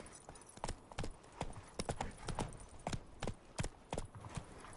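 Roach, a horse in a video game, gallops with a rapid, rhythmic clip-clop of hooves. The beats are crisp and evenly spaced, at moderate volume.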